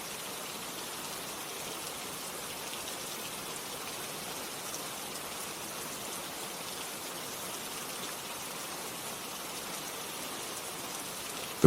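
Steady, even rain falls throughout as a constant broadband hiss of drops on surfaces, with no voices or other sounds.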